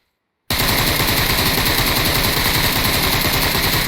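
Sustained rapid automatic gunfire in a video game starts abruptly after a short silence and rattles on loud and unbroken to the end.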